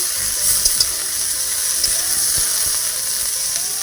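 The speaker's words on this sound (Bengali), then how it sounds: "এইভাবে ভালো করে নেড়ে করে ভেজে নেবেন" Broiler chicken pieces frying in oil and being stirred make a steady dense sizzle, close and fairly loud, with faint scraping stirs and no talk.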